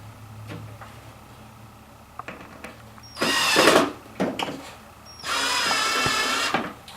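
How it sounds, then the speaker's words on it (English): A power drill drives a screw into a knob on a nightstand drawer, running in two loud, close bursts of whirring separated by quieter handling clicks and knocks. "tighten it up with your drill or screwdriver"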